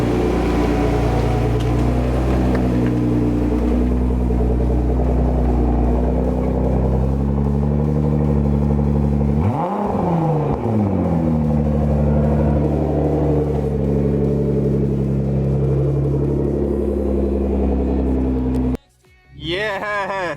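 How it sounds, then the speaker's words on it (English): A 2009 Nissan GT-R's engine rumbles deep and steady close by, then its pitch sweeps up and down once in a brief rev before settling, and near the end it cuts off abruptly. People talk over it. "So this is a 2009 Nissan GTR."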